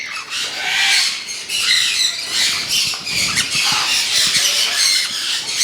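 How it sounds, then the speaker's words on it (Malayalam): Rosy-fronted conures squawk and screech continuously, harsh high-pitched calls overlapping nearby with no pauses. "റോസി ഫ്രണ്ടഡ് കൊണിയോറിൻ്റെ ഒരു ബ്രീഡിംഗ് പെയറാണ്"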